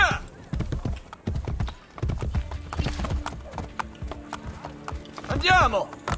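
Horse galloping in the video game Assassin's Creed Brotherhood, rapid rhythmic hoofbeats close up with a neigh near the end, mixed with game sounds and voices talking.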